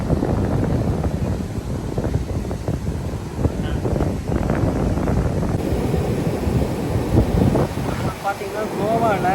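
Ocean waves and wind at Baga Beach, Goa, on a morning seafront: a loud, continuous roar of surf and gusting wind buffeting the microphone, with people talking faintly in the background.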